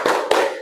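Two sharp, close hand claps in quick succession from a group playing a clapping ice-breaker game, loud and crisp with no talk over them.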